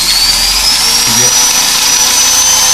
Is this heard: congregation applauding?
no